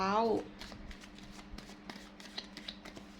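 Tarot cards are shuffled and drawn by hand, a quick run of soft papery flicks and light taps close by after a brief burst of a voice at the start.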